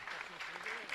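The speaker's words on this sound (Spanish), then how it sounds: "Fuerte aplauso." Congregation clapping at a Mass in a chapel in Luque, honoring a couple's 45th anniversary; a brief, faint burst of applause with a voice mixed in.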